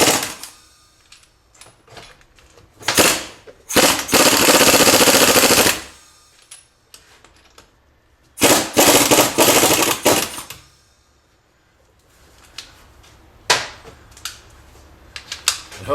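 Power tool tightening a strut spring compressor during a front strut replacement: loud rattling impact-style bursts, a few short hits and two longer runs of several seconds, separated by quiet gaps.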